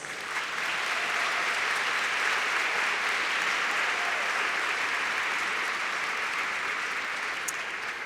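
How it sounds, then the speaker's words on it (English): A big audience at a midwives' congress plenary session breaks into sustained applause, the crowd's dense clapping rising quickly and holding loud and even for several seconds. "Guatemala, please give them a round of applause."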